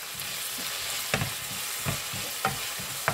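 Tomato goes into a sizzling pan of French beans and potato sabji, with a constant frying hiss broken by a few sharp spatula knocks against the pan.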